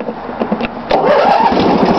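A small engine with choke and throttle set sputters briefly and then catches, settling into a steady close running note.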